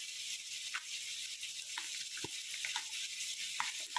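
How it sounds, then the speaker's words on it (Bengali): Whole dried red chillies go into hot oil in a pan for a crab lunch dish, making a steady close hiss of frying with a few soft pops and stirring knocks. "শুকনো লঙ্কাগুলো আর আলাদা করে পিসবো না, তাই একসঙ্গেই পুরো আমি দিয়ে দিচ্ছি"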